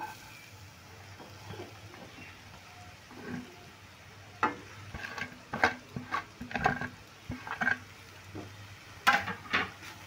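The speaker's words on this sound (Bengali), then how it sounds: "যে গাজরটাকে ঘিয়ের সঙ্গে একটু ভালো করে ভেজে নেব" Grated carrot fries in ghee in a wok while a utensil stirs it, with soft sizzling under repeated scraping and clanking strokes against the metal.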